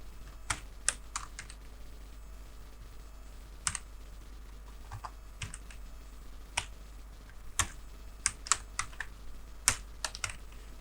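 Code is typed on a computer keyboard in irregular bursts of crisp, close key clicks with short pauses, over a low steady hum.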